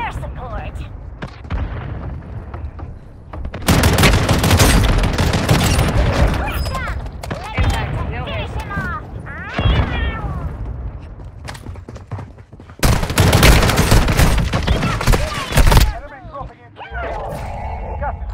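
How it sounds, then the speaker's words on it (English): A mortar strike and gunfire in the Warzone Mobile video game: repeated loud bursts of booming explosions and rattling shots come in waves, with voices talking between and over them. "Mortar strike inbound now."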